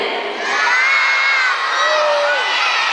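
A crowd of children shouts a greeting together in one loud, sustained, cheering chorus that swells and holds for the full length.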